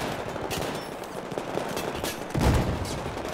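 Rapid automatic gunfire in the PC shooter Battlefield 4 during the Baku mission, dense continuous bursts with a heavier blast near the end, loud and close.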